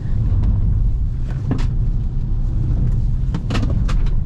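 Fiat Pulse Abarth 1.3 T270 heading quickly downhill, with a steady low road and engine rumble and a few sharp rattles and knocks from inside the car over it.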